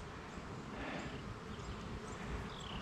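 Honey bees taken from a tree and being moved into a modified extra-deep horizontal hive give off a faint, steady buzzing drone, heard close with no talking.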